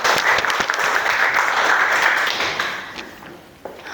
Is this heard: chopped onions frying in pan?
no